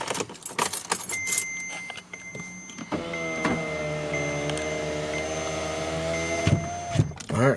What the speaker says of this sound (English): And turn on the wiper blades.